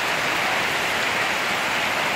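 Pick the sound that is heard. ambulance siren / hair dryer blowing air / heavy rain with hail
heavy rain with hail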